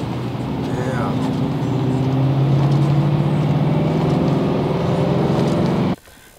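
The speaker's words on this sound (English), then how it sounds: "Driving in the rain is crazy." A car drives steadily on a rain-soaked freeway, a constant rumble of engine and tyre hiss on wet road with voices talking over it, cutting off abruptly near the end.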